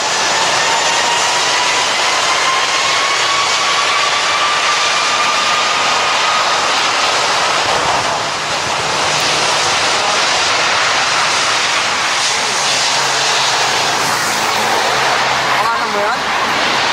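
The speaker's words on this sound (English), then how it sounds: "This Airbus A330 suffered an engine failure," Airbus A330 jet engines roaring loudly and continuously during an aborted takeoff after an engine failure, a steady broad roar with a faint rising whine, no pauses.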